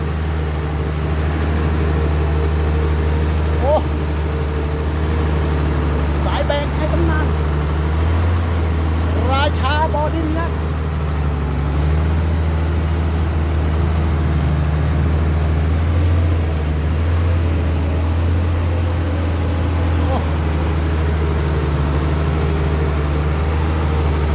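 An FN527 ten-speed dump truck drives on a steep dirt quarry track, its engine a steady, close diesel drone with a few rattles and clanks over about twenty-four seconds, and a voice talks over it at times.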